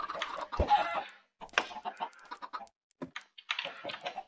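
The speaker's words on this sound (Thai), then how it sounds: "แล้วไก่ก็ออกไข่แบบไม่หยุดไม่หยอดเลยอ่ะ" Chickens cluck in a Minecraft world modded with extra animals, a few short bursts of clucking separated by brief silences, fairly close and moderately loud, with no talk over them.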